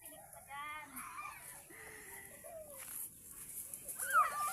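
Chickens cluck softly in a rural provincial yard, short clucks and calls scattered among children's voices and background chatter.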